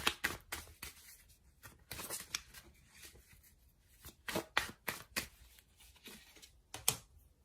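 Tarot cards are shuffled and drawn, giving quiet close riffling and slapping bursts in irregular clusters separated by short pauses, with no speech.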